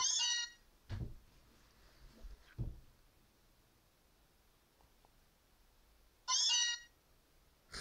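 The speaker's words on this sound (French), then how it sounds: "la Miaus va arriver et va nous donner un réveil." Meowth meows in Pokémon Ultra Moon, two short, high synthetic cries at the start and near the end. Soft thumps fall in between over quiet background.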